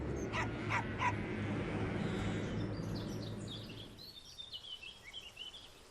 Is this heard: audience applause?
no